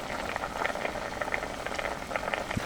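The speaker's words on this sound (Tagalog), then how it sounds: "tuluyan ng kumulo yung liquid" Adobo liquid with cane vinegar bubbles in a pot, soft continuous burbling with scattered small pops, close and moderately quiet.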